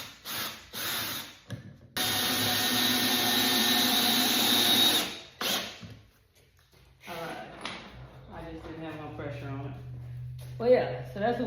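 A power drill drives wood screws into a 2x4 without pilot holes, with a few short bursts and then one long whining run, followed by a person talking as the motor stops.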